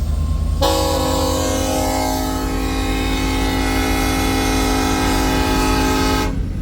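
A westbound empty coal train sounds a long, loud, steady horn blast lasting several seconds over the low rumble of the moving train.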